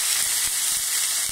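Water poured into a pan of hot oil with frying bay leaves, whole garam masala and cumin, for dal gosht chawal, sets off a loud, steady, close hiss and sizzle that does not let up.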